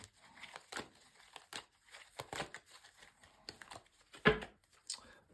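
Tarot cards shuffled by hand in quick, crisp riffles and slides, a series of short papery bursts close to the microphone with small gaps between them.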